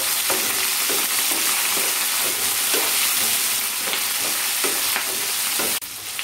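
Chicken pieces sizzle steadily in a pan while being stirred, with repeated scraping strokes of the spoon over the constant frying hiss; no one speaks.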